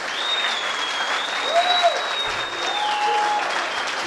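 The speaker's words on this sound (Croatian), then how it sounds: "ako može jedan aplauz za kuma Jusufa i kumu Edu" A wedding crowd applauds the arriving godparents with dense, steady clapping throughout. High whistles rise above it.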